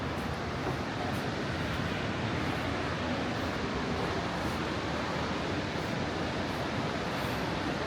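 A waterfall seen from a mountain village rest stop on the Annapurna Circuit, a dense, steady roar of rushing water that holds at a constant level throughout.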